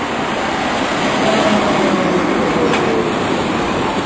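Steady rolling rumble of a tram carrying riders through a city, a continuous dense clatter and rail noise close by throughout with no talk.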